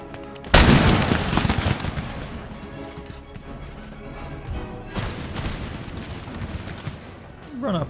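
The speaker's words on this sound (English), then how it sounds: "Run up and give them a very, very close volley." In Empire: Total War, a loud, sudden burst of massed musket fire crackles out at close range, followed by a second ragged volley and lingering battle noise in the background.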